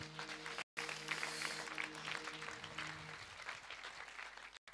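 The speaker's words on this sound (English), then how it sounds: "Give Jesus a lekker hand clap." A youth camp audience gives a round of applause and hand clapping, quiet and fairly distant, with a steady patter and some sustained tones under it that fade away near the end.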